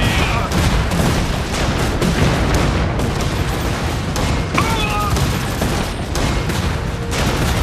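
Dense battlefield gunfire in the strategy game Iron Harvest, a continuous roar of rifle volleys, machine-gun bursts and booming artillery, loud and unbroken throughout with brief clinks and shouted alerts mixed in.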